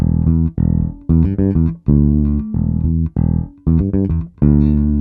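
A funky bass guitar riff, plucked notes in short syncopated sixteenth-note bursts with brief gaps, clear and close with no other sounds.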